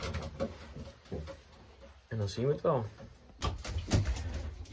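Racing pigeons coo in a pigeon loft, with a clear warbling coo in the middle, close by, amid rustling and talking before and after.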